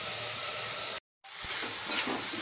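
Mutton chilli cooks in a pan with a low sizzle and hiss. The sound cuts out briefly and then comes back with soft stirring and steam, faint and close, with no voices.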